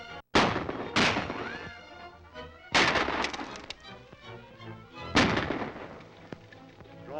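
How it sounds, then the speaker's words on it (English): Gunshots in a western film shootout: four loud, sharp reports spaced irregularly over music, each ringing out briefly before the next. "Draw his fire and we'll rush him before he can reload."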